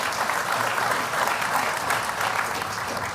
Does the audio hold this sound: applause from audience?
yes